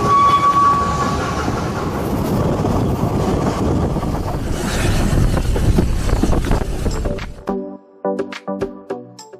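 A train on the Festiniog and Welsh Highland Railways in Wales rumbles loudly and steadily for about seven seconds, then gives way to sharp, irregular clanks and knocks close by as the noise drops off.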